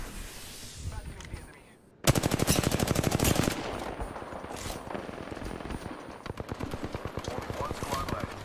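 Automatic gunfire rattles through an Apex Legends firefight, starting abruptly after a quiet moment and continuing in dense rapid bursts with some game voice underneath.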